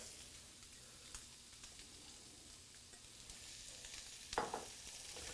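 Pre-cooked food sizzles steadily in hot oil, a soft, even frying hiss with a few small pops and crackles near the end.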